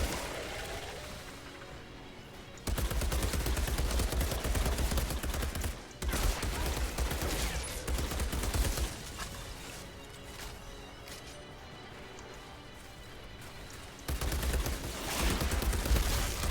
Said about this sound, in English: this is the kind of gun that gets more accurate the more you shoot